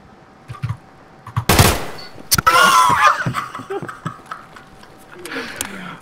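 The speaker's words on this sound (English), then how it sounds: "The shots were like right here." Gunshots in a shooter game crack out as a couple of loud, sharp blasts followed by scattered smaller pops, with people talking and laughing between them.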